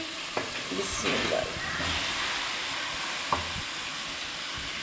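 Fried vegetables stirred into sizzling masala for aloo mongray give a loud, constant frying hiss with a few spoon scrapes and clinks, close up and without talk.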